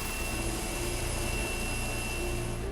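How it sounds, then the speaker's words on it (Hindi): A helicopter airlifting stranded workers at sea during a cyclone off Gujarat, heard as a constant engine and rotor roar, loud and unbroken, with no voices. "बीच समंदर में फंसे कर्मचारियों को हेलीकॉप्टर से एयरलिफ्ट किया गया।"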